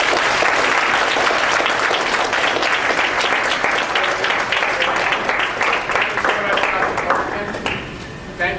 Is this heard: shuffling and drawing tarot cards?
no